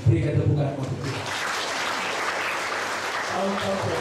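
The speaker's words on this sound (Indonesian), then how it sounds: "Berikan tepukan untuk Tuhan." Congregation applauding during a church revival service, a broad steady wash of clapping that starts just after a brief spoken moment and carries on evenly to the end, with a voice returning faintly near the close.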